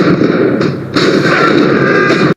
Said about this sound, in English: And along with that explosion, both Agent Johnsons are also blown to death